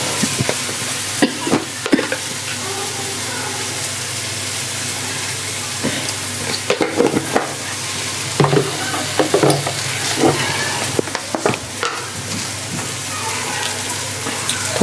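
Onion-coconut masala gravy for matar paneer sizzles steadily in a pan while a spoon scrapes and stirs it in irregular clattering strokes, close and continuous.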